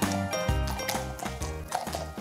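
A stallion trots on a test run, its hooves clip-clopping in a steady rhythm fairly close, over a humming tonal background that may be music.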